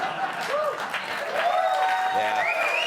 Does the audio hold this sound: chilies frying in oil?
no